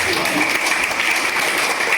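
Applause from a church congregation, a steady dense wash of clapping that stays even and fairly loud for its whole short span with no voices standing out.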